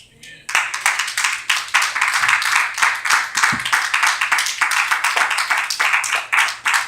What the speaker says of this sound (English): Give God a better hand clap than that